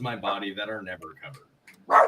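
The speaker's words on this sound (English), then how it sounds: "so that's the dog barking." A dog gives a single short bark right after a person finishes speaking.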